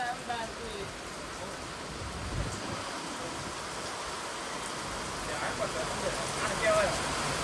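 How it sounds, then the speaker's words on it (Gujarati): Heavy rain with wind pours down in a constant dense roar, with gusts swelling it louder toward the end; faint sounds of activity in the background. Recorded in Modasa, Gujarat, India. "અત્યારે હાલ ફૂલ આવી ગયો છે પવનની સાથે વરસાદ"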